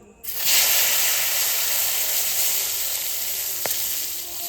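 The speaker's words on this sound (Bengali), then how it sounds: "বেগুনটা বেজে নেব" Eggplant hits hot oil and bursts into a loud, hissing sizzle that holds steady close by, with no talking.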